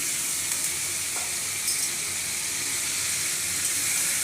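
Five hundred grams of shankar fish is added to chopped tomato in hot oil for a Bengali fish curry with potato, giving a steady, dense sizzle throughout with a few faint stirring touches.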